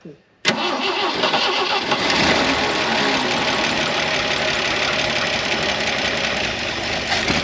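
A long-dormant Jeep CJ5 engine, unused for 16 years and fed by a faulty carburetor, cranks and catches, then roars loudly and steadily close by with a rough, knocking edge and no talk over it.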